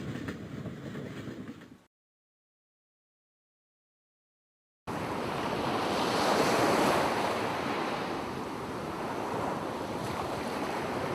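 Ocean surf and wind at the seaside, a broad, steady wash of waves that cuts off into a few seconds of silence and then returns louder and swelling, with no voices.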